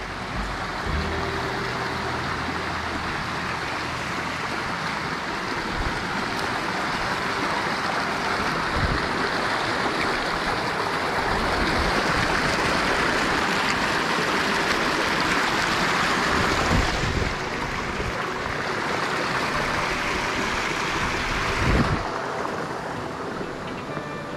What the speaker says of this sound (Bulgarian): Сме на водопадчето.